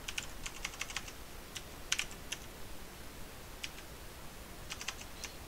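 Typing on a computer keyboard while writing a Python dice roll program, close and alone: quick irregular clusters of light key clicks with short pauses between bursts.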